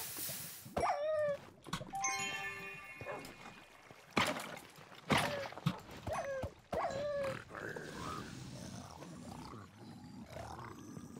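A dog barks in Minecraft: Vault Hunters 1.18, several sharp barks and yelps at irregular intervals amid game effects and other animal-like growls, fairly close and loud.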